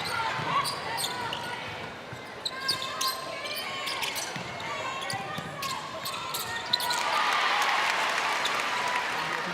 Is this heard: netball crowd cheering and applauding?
yes